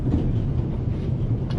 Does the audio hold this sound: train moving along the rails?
yes